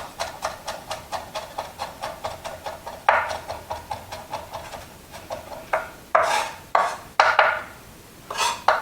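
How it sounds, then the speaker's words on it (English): A knife chops garlic finely on a cutting board in quick, even taps, close and crisp, breaking into a few slower, louder scraping strokes toward the end. "Now we're getting to that finely diced stage."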